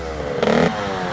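KTM RC125 motorcycle engine running steadily while riding, with a brief louder clunk and surge as the gearbox shifts down into first, close and continuous.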